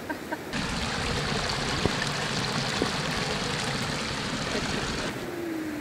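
A creek running high and fast with flood water, a dense, steady rushing roar that fills the clip from start to finish at close range, with no voices over it.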